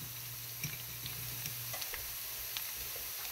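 Onions fry in hot oil as torn bay leaves go into the pan for beef kala bhuna, a soft, steady close sizzle with a few small clicks and taps, no voices.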